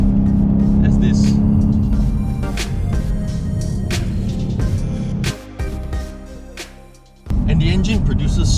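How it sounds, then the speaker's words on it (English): BMW M850i xDrive Coupe's engine pulls hard under throttle, a loud, steady low rumble that drops away briefly and then surges back, with someone talking over it throughout. "just tap on the throttle a bit and the car just goes like crazy"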